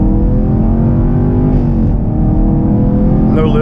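A Chevrolet Camaro SS 1LE pulls hard in second gear during a 40 to 130 run, its engine a loud, continuous rising drone that fills the clip without a break.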